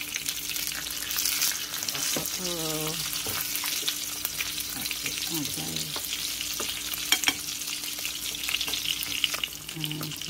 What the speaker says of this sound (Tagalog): Fried salmon tayo today